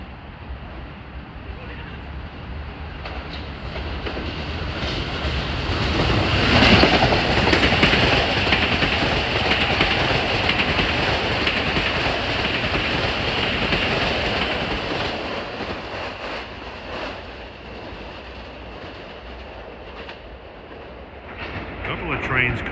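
A Metro-North Railroad express train on the Harlem Line rushes past, its roar swelling to a peak and slowly fading with rhythmic wheel clatter and some wind buffeting on the microphone.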